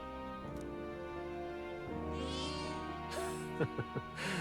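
A cat meows in the fantasy role-playing game Metaphor: ReFantazio. Two or three short, close meows sound over a steady soft music bed, with a faint chime near the end.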